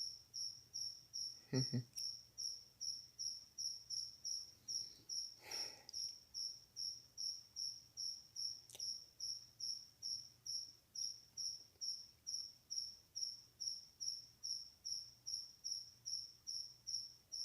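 Steady cricket chirping from Dragon Ball: Advanced Adventure repeats in a quick, regular pulse for a long stretch, faint and alone apart from a couple of brief clicks.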